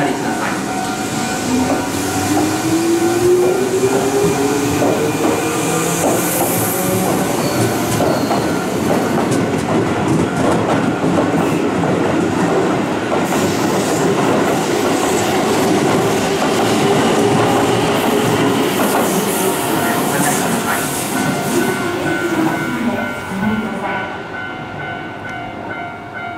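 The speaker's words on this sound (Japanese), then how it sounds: "電車が通過します。" A Keihan train rumbles steadily through Kōzenji Station without stopping, with rhythmic clickety-clack of wheels and a faint rising squeal, loud and close, fading slightly at the end.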